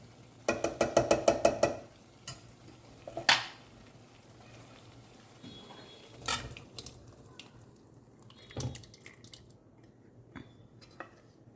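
Mashed vegetables are stirred into pav bhaji in a pan, with a spoon scraping and clattering against the pan in quick bursts of clinks, then sporadic wet squishes and knocks spread across the clip.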